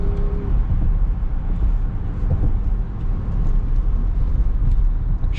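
The V8 engine of a 2024 Porsche Cayenne S pulls under throttle with a steady, dense rumble. The sound is heard from inside the cabin and holds an even loudness throughout.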